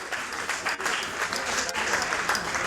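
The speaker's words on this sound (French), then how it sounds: "applaudissez très très fort" Sustained applause from a large crowd at an awards ceremony under a marquee tent, loud and dense, with scattered sharper claps and a few voices underneath.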